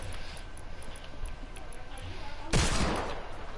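Fortnite gunfire in a burst of loud sharp shots that breaks in abruptly near the end, following a stretch of quieter game ambience with faint ticking.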